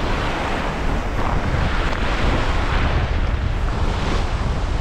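Strong wind buffeting the microphone over waves washing on the water by Pine Island after Hurricane Ian, a loud continuous roar with surging surf and no voices.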